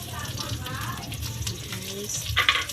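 Hot onions frying in a pan for a pork and jackfruit dish, stirred with close scraping strokes over a steady sizzle, with a brief watery gush near the end.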